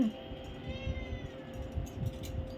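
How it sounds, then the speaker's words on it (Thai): A cat meows close by during a lunch of pork noodle soup, a short, fairly quiet call over a steady background hum. "เป็นแมวหรือเป็นอะไรเนี่ยฮะ จะกินทุกอย่างขอกิน"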